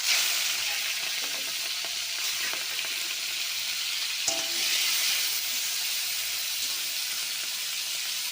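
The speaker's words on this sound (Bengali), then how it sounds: "সরষের তেলে চিংড়ি মাছটা ভেজে নেবো" Prawns frying in mustard oil in a kadai give a loud, continuous sizzle and hiss, with a single sharp clink midway.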